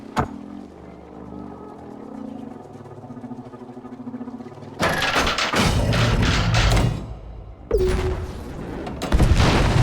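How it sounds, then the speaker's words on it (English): In the space battle game Conflicks, repulsion torpedoes strike an enemy battleship, setting off loud, dense bursts of booming explosions after a quieter humming stretch, alone without speech. "launch a repulsion torpedo at the enemy battleship, then sit back and watch the fireworks"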